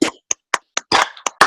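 A few people clap in sparse, uneven bursts during an interview with a rapper, with close, sharp individual claps separated by short gaps.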